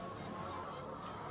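Battery hens kept for life in wire cages, about ten birds to a cage, clucking together in a dense continuous chatter that fills the space without pause.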